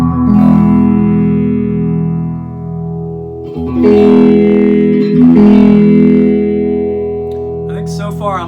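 An electric guitar plays through an inexpensive phaser pedal set at 9 o'clock, with sustained chords and notes swirling slowly, loud and close, in a couple of strummed phrases separated by a brief pause.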